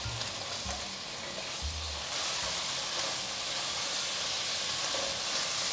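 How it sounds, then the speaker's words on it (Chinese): Fried vegan beef stir-fried quickly in boiling sauce in a wok, a loud steady sizzle and bubbling hiss with a few low scraping stirs near the start, no voices. "快速翻炒，让素牛肉吸收到酱汁。"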